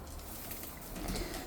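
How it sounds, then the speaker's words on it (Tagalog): Racing pigeons coo in a loft. The soft, low coos sit in a quiet ambient background, with faint mechanical noise under them and no talk. "ipapakita ko sa inyo yung tatay nung nanalo natin mga kalapatids, si Colette"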